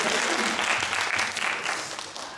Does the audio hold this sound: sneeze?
no